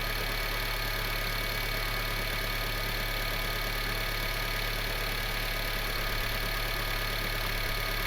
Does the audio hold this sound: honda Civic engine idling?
yes